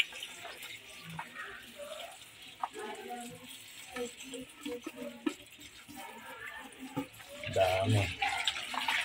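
Freshly caught shrimp being rinsed in water, with soft splashing and trickling under intermittent nearby talk, rising to a louder slosh toward the end.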